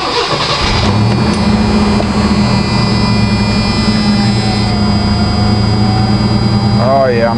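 A car engine runs at a steady, smooth idle after its distributor cap and rotor were cleaned, a loud continuous hum with a faint rising whine near the end.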